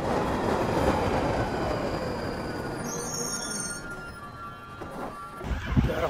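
A London Underground train rides along with a steady loud rumble and rail roar, high wheel squeals whining over it, and the noise eases briefly before a few heavier thumps near the end.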